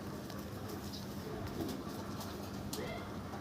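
Desi and Madras pigeons in a loft give soft, low cooing over a steady hum of background noise, with a few faint sharper sounds in between.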